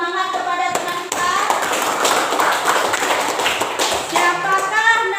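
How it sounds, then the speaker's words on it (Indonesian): A classroom of children clapping their hands together, a dense burst of rapid claps lasting a few seconds, framed by a teacher's speech at the start and end. "tepuk tangan dulu untuk beri semangat kepada teman kita"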